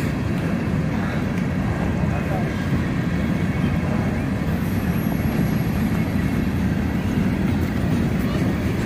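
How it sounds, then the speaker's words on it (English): An Amtrak passenger train approaching along a line also used by grain trains, a steady loud low rumble building across the scene with no talk. "Here comes Amtrak."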